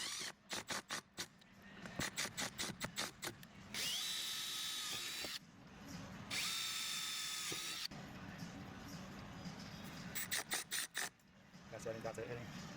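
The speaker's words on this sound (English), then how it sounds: "match drill through the first layer of aluminum with a 1/8 inch drill bit" A power drill with a 1/8 inch bit bores through aluminum on a Humvee center console install: rapid bursts of trigger pulses, then two longer steady whining runs, followed by more short stuttering bursts, close and clear.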